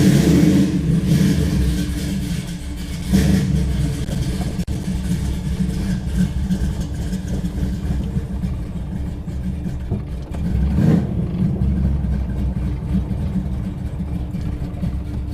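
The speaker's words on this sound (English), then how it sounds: "I'm hoping this battery's strong enough to start and run the car without the help of the charger." A 1969 Plymouth Road Runner engine runs close by with a loud, steady idle rumble, surging slightly at the start and again near the end, with no one talking.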